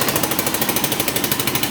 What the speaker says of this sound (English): as I'm sure you can hear, there's something wrong with the exhaust